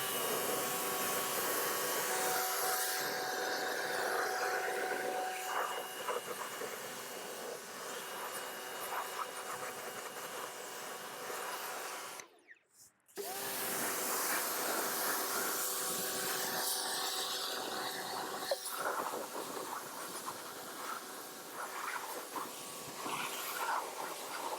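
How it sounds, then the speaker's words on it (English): Steady, loud water spray hisses continuously while rinsing the wheels of a Range Rover during a snow-foam wash, broken by one brief pause partway through before the jet resumes. "we're going to go ahead and rinse the wheels off"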